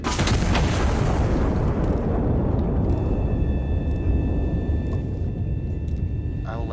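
Heavy turret cannon fires in the Iron Nest simulator game, a loud sustained booming blast filling the whole stretch with a rumbling decay and faint mechanical whines afterward.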